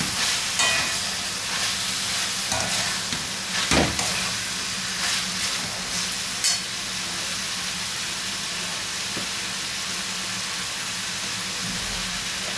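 Peppers and tomatoes sauté in a pan, a continuous close sizzle with a few sharp clinks and stirring scrapes early on before settling into a steady hiss.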